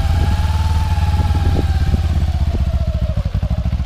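Kawasaki Ninja motorcycle engine idling and blipping the throttle up close, a steady low rumble with rising revs and rapid pulsing firing beats, loud and alone.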